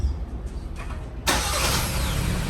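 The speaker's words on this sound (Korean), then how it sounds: "자, 시동." A Kia Sportage NQ5 engine cranks and catches, a sudden loud start after a quiet cabin, then settles into a steady, even idle close by.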